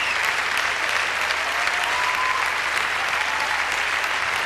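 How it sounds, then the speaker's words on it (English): Sustained, even applause from a big audience at a European standard dance championship in Denmark fills the hall for an Italian dance couple, thick and continuous without pause. "crowd generous in their applause of the Italian couple"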